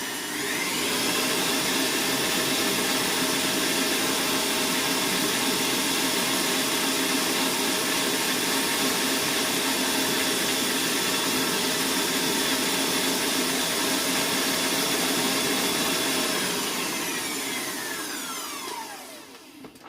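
An electric mixer whisks buttercream batter made with vanilla and a cooked flour paste, running as a steady, loud, continuous whirring drone close by for about seventeen seconds before winding down at the end, with no talking.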